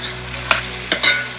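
A spoon gives green fig bananas a quick stir in a pot, making three short scraping swishes close by over a low simmering hiss.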